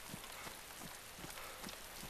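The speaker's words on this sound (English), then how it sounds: "It also helps the fact that it's raining." Rain falls steadily in the video game DayZ, a faint continuous patter with soft scattered drop taps and no talking.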